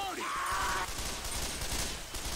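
Gunfire in the Left 4 Dead 2 co-op zombie game, with a dense, noisy clatter of shots and chaotic combat sound running throughout, led by a brief whistling tone at the start.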